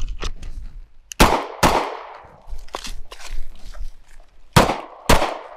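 Rapid bursts of pistol shots at an outdoor shooting range during a movement drill, loud and sharp, in scattered pairs with quieter handling noise between them.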